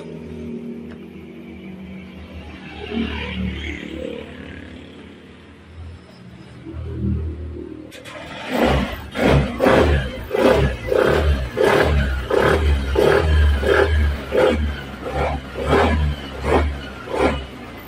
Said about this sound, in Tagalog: Pero kapag binitawan mo yung throttle, hindi mag-idle yung makina at diretsong mamamatay.